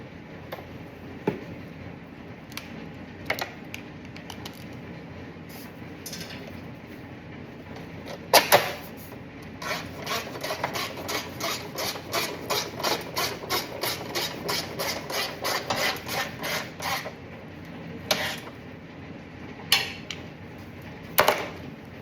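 Wrench undoing a bolt during a fuel pump replacement on a 2002 Corvette C5, scattered clanks followed by a fast run of rhythmic ratcheting clicks, then a few more isolated knocks, close with no talk.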